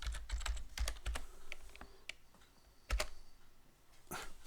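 Commands typed on a computer keyboard as a burst of quick, uneven key clicks close by with short pauses between them, quiet apart from the typing.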